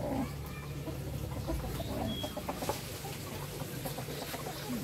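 Free-range village roosters and hens clucking steadily at close range on a farm, with scattered short calls over a constant busy background of other fowl and no talking.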